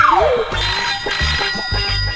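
A telephone rings: a brief falling electronic tone, then short repeating ring pulses in a steady rhythm, loud and near.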